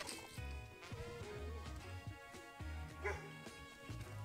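Dogs bark, yip and whimper in a quick, agitated cluster with low growly tones underneath, fairly close but modest in level over steady background noise.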